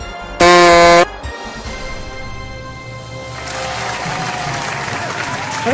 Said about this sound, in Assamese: মোৰ কাৰণে বেছি তালি মাৰিব নালাগে